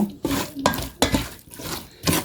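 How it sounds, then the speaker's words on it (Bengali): A spoon stirs biryani ingredients with oil in a cooking pot, five separate scraping, clattering strokes with short pauses between them, close and fairly loud, with no talking. "পরিমাণ মতো তেল দিয়ে সুন্দরভাবে মিক্সড করে নিব"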